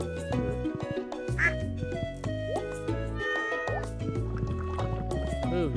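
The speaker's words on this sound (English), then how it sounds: "Move, you darn cat." Meowing from a cat in the farming game Stardew Valley, several tonal cries mixed with game music and other chirpy game sounds, fairly loud and continuous.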